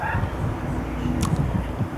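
A dog in a yard gives a short bark or yip among several household dogs and cats, brief and moderately close over a low background rumble.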